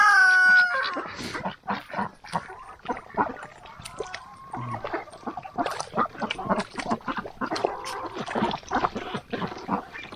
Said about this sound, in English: just one rooster can be pretty noisy.